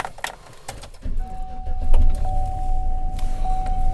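A 2017 Chevrolet Express passenger van engine cranks and catches, settling into a steady low idle with a faint whine running above it. A few clicks and rattles come before the start.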